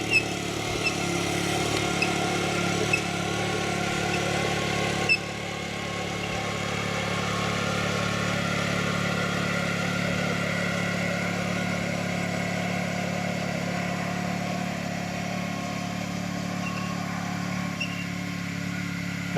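An FF/18 fitted with a two-cylinder liquid-cooled Honda engine idles steadily and close by, giving a constant mid-pitched drone with a slight shift in tone around five seconds.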